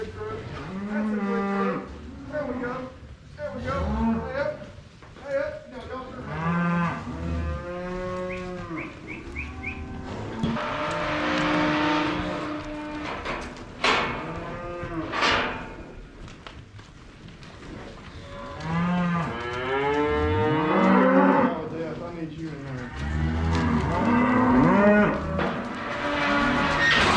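Cattle mooing repeatedly while being sorted through new pens, several animals bellowing in overlapping long calls, some near and loud, others farther off, continuing throughout.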